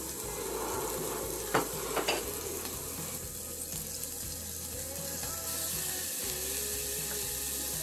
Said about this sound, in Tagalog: Lagyan natin yung sibuyas. Lutuin lang natin yung sibuyas, guys, at saka yung yung garlic.